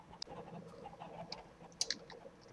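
Chicken clucks from a flock of grown-up chickens in the Minecraft video game, a few short soft clucks scattered over low background game ambience with a couple of brighter clicks near the end.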